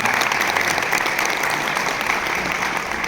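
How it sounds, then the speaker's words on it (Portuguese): Dense, steady applause from a festival audience at a family farming fair in Bahia, loud and continuous for the whole stretch, tapering slightly at the end, with no voices standing out. "uma salva de palmas para a nossa amiga aqui"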